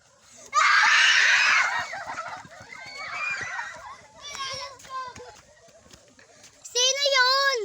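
A person lets out a loud scream in a forest, starting just after the opening and lasting about a second. Softer cries and voices follow, and another sharp call comes near the end.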